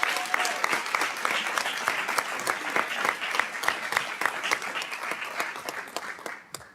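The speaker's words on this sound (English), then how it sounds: "give the Coronado Dons Marching Band a round of applause" An audience at a school district governing board meeting applauds the Coronado Dons Marching Band with sustained, dense clapping that fades slightly toward the end, with no talk over it.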